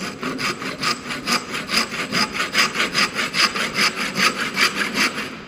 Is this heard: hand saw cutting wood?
yes